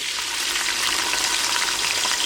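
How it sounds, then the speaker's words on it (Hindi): Onions fry in hot cooking oil inside a pressure cooker, giving a steady, loud, close sizzle with no pauses. "अभी हम इसमें प्याज डालेंगे, प्याज ब्राउन करने के लिए"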